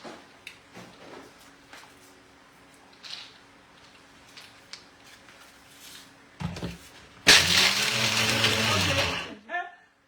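A blender grinds groundnuts in a kitchen, running loud and steady for a few seconds near the end after quieter kitchen clatter and faint background voices.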